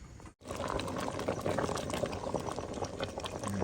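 Steady, dense bubbling of water at a rolling boil in a pot, for a Thai bamboo shoot and mushroom curry, continuous and close, with no talking over it.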